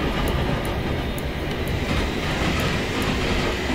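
Class 450 electric train running on the Portsmouth Direct Line between Woking and London Waterloo in a train simulator game, a loud constant rumble and rolling roar from the cab with faint rhythmic clicks and no talking.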